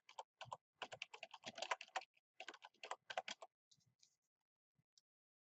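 Typing on a computer keyboard while editing a chart title in a spreadsheet: a rapid run of close, crisp key clicks in bursts for about three and a half seconds, then a few sparse taps trailing off into quiet.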